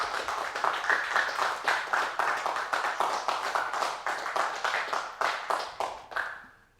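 Applause from an audience at an evening talk on votes for women, steady clapping from a modest crowd that keeps a fairly even rhythm for several seconds before fading out at the end.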